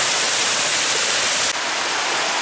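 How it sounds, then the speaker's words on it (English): Bonita Falls, a waterfall north of Rancho Cucamonga in the Lytle Creek area of Southern California, roars as a loud, steady wash of broadband water noise heard from close by, with no voices. "Okay, we got a little bit closer to the falls."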